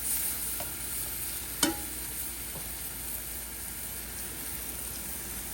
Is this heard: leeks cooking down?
yes